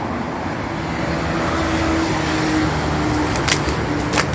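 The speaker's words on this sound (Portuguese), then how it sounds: "Olha o barulho dos carros lá" Cars pass on a street outside an abandoned house, forming a steady wash of road noise with a louder vehicle swelling near the end.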